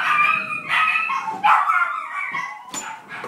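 Several dogs bark and yip excitedly as someone arrives home, near and loud, with overlapping barks and whines filling the whole stretch.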